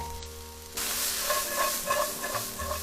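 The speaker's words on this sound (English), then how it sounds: "add our onions to that same pan. Hit those with a little salt to bring some of that moisture out" Chopped onions with a little salt hit a hot pan that is already in use for a chicken noodle soup, starting a loud, close, steady sizzle and frying hiss after a brief quiet moment.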